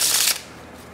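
A Karnival Gold playing card deck is shuffled, a quick burst of riffling card edges lasting a fraction of a second before fading into quiet.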